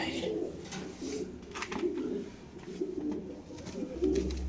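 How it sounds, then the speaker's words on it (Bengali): An Indonesian Danish pigeon at a pigeon market gives repeated soft, throaty coos in short rising bursts, close by, with faint background chatter and a deeper thump near the end. "ইন্দোনেশিয়ান একটা ডেনিশ কবুতর"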